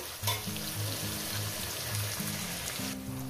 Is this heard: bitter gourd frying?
yes